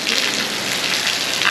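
Heavy, steady rain pours down in Pulau Seram, Maluku, a dense, continuous hiss of drops drumming on surfaces, loud and close, with no voices over it.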